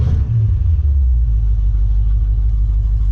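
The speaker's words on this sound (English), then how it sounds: "Hit that throttle one time" Project car engine at a gasser event in Lyons, Indiana, loud and close, a deep throttle blip rising at the start then settling into a heavy, steady rumbling idle.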